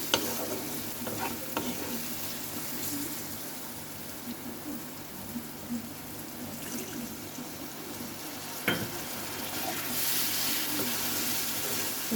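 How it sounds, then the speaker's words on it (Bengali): Ground turmeric and coriander with a splash of water being stirred and fried in a pan for chana dal tadka, giving a continuous close sizzle with soft scraping strokes and a louder clack of the utensil partway through. "ভালো করে এটাকে আমি কষিয়ে নেব।"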